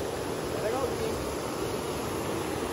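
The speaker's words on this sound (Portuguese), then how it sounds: "E chegamos na Cachoeira da Usina." Steady broadband rush of water at Cachoeira da Usina, a waterfall in Chapada dos Veadeiros, continuous and fairly loud throughout with no pauses or distinct events.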